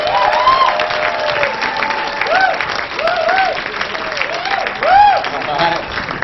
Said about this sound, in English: Put your hands together for Andrew Martinez, everybody